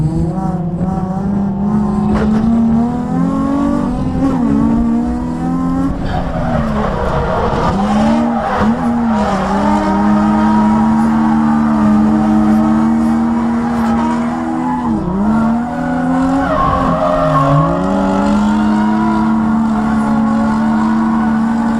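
Two Nissan 350Z drift cars run in tandem at a drift event, one fitted with a PBM angle kit and 4.36 gears, the other with Wisefab. Their engines roar loudly and steadily for the whole stretch, pitch rising and dipping with throttle, under a constant hiss of tire smoke.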